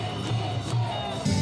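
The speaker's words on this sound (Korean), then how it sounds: "광주 곳곳에서도 기아를 응원하는 함성이 가득했습니다" Crowd of Kia Tigers fans cheering in Gwangju in front of city hall on a cold night, a dense, steady roar of many voices with swelling shouts and whoops throughout.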